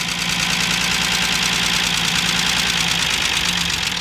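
The engine of an abandoned 1977 Ford Granada Coupé, recently revived after about 20 years of sitting, idling steadily and loudly nearby with a rough, knocking pulse and no voices.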